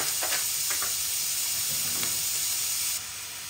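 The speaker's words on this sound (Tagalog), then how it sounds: "Lagay na natin itong ating dadini. Konting ano lang natin siya igigisa kasi ito naman ay luto na." Diced ingredient sizzling as it sautés in a hot pan for carbonara, a steady bright hiss with a few soft stirring scrapes, close and continuous without talk.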